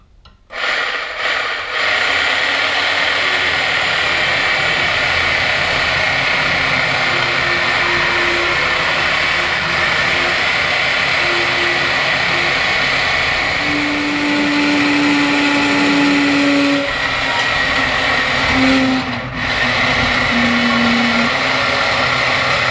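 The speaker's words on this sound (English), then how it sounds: "You want to let the bandsaw do the work." A Bauer 10 amp band saw from Harbor Freight runs loud and steady through a cut, its motor whine and blade rasp sustained with slight pitch shifts as the wood feeds, easing briefly near the end before resuming.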